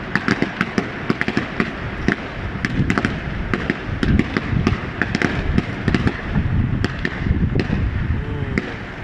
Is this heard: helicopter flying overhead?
no